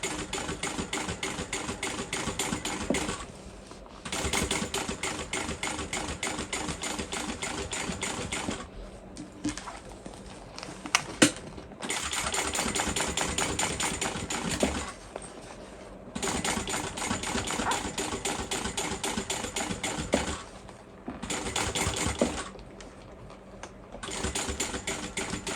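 A sewing machine stitches slowly through thick bowler bag layers in steady rapid bursts, pausing briefly between runs, close and fairly loud with no talking.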